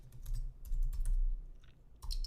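Quick bursts of keystrokes on a computer keyboard while JavaScript code is entered, close and crisp clusters of clicks separated by brief pauses.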